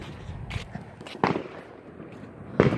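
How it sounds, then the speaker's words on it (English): Fireworks pop in the distance, three or four separate faint bangs spread over a few seconds against quiet outdoor background. "I'm hearing fireworks down here."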